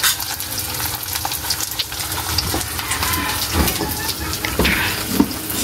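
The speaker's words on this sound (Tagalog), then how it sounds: "magluto na po si mama ng scramble egg" Scrambled egg with tomato fries in a pan, giving a steady close sizzle and hiss with scraping stirs now and then and brief faint speech.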